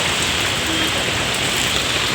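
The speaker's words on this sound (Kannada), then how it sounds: "ಮಳೆ ಬಂದ್ಬಿಡ್ತು." Steady rain pours down outdoors near a house with plants, a dense, even hiss of falling drops that fills the whole stretch at constant loudness, with no voices.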